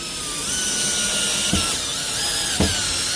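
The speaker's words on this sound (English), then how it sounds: "That drill driver makes it way easier." A high whining drill driver runs steadily up close driving screws during a kitchen remodel, with two brief clunks as it bites in.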